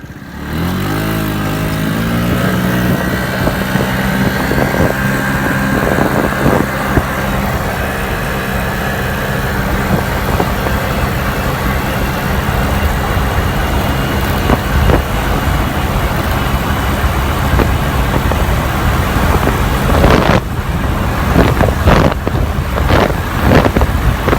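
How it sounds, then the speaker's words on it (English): Honda Metropolitan scooter with a 95cc big bore kit, performance camshaft and stock exhaust and airbox, ridden at speed around 50 mph: a loud, steady, buzzing engine drone with wind rush that holds throughout, with brief bumps and gusts near the end. "This is the 50-mile-an-hour Honda Metropolitan."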